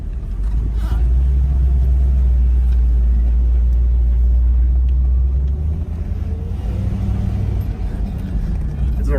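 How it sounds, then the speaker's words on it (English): A 1965 Imperial Crown convertible, triple black with 65K miles, cruises on a test drive, its engine giving a steady deep rumble with road and wind noise, loud and continuous from inside the car. "We're gonna take it for a little spin, test drive, and show you how nice it drives."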